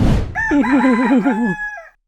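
A rooster crows once, loud and close, a long wavering call with a rising start and a drawn-out, quavering finish, followed by silence.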